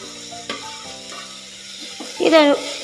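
Onions and green peas frying in oil for restaurant-style ghee rice: a soft sizzle with a few stirring scrapes and clinks, rising to a brief louder burst near the end.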